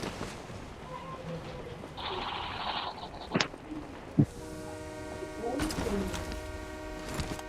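A train passes at a distance, a sustained horn-like tone rising over a low rumble, after scattered bird calls and a couple of sharp knocks.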